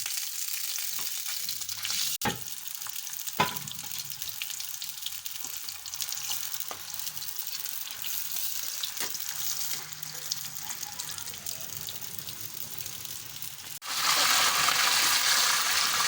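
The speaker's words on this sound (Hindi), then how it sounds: "प्याज को लाइट ब्राउन करने तक भून लेंगे।" Onions frying in ghee sizzle steadily in a pan, with a few light clinks, and the sizzling swells louder near the end.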